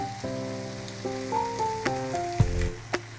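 Surmai fish coated in recheado masala frying in a pan over low heat, a soft continuous sizzle under a steady background with a few brief clinks.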